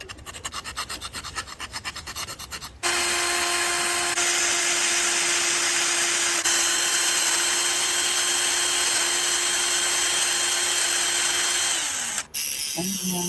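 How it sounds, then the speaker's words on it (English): Small lathe turning homemade bullets: a steady, loud mechanical whine runs for about ten seconds after a rough choppy start, then cuts off abruptly near the end. "Little lathe."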